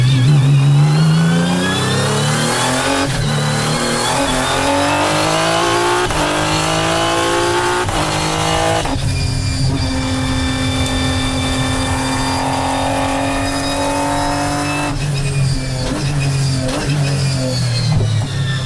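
A six-cylinder Supercars race car engine revs hard and continuously, its pitch rising and falling through gear changes, loud and sustained with no talking.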